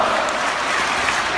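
A wrestling crowd at a live match roars and applauds steadily, a dense wash of cheering and clapping filling the whole moment without a break.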